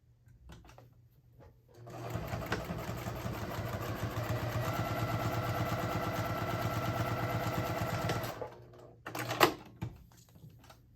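A sewing machine stitches a quarter-inch seam down one long side of two fabric panels for a color block wristlet, running steadily for about six seconds with a brief start and stop around it.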